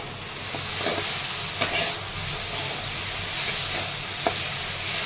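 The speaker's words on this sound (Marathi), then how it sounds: "आता दही आहे ना याच्यात मिक्स करून घ्यायचं." Curd being stirred into cooked okra in a hot pan, a steady scraping stir over a continuous soft sizzle, with a couple of sharper clicks of the spoon against the pan.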